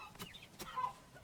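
Chickens cluck in the Valheim video game, a few short, soft clucks close by with no talk over them.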